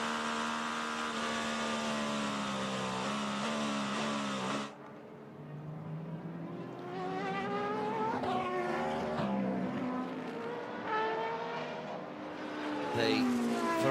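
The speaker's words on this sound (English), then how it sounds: "The variety of sounds of the engines as the V8 Porsche rumbles by" A V8 Porsche race car engine rumbles past at Petit Le Mans, Michelin Raceway Road Atlanta, joined by other screaming engines that rise and fall in pitch as cars pass, with several loud passes over about fourteen seconds.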